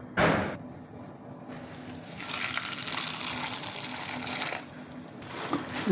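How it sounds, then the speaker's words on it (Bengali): Water pours and splashes as puffed rice is washed for malpua, with a running, gushing flow rising and falling close by and brief pauses; no talking. "জলটা দিয়ে ভালো করে ধুয়ে নিতে হবে।"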